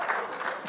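A cinema club audience breaks into a short, dense burst of applause, steady and fairly close, with no voices standing out.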